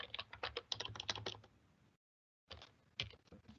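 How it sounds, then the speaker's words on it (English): Typing on a computer keyboard: two quick bursts of close, crisp keystrokes separated by a short pause, with no talking. "I can simply just start typing as I'm thinking through"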